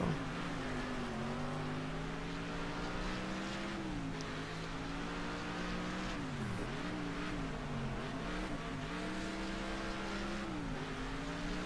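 A race car engine in Next Car Game holds a steady, loud drone through a lap. Its pitch rises and dips as the car shifts and takes corners, with no voices over it.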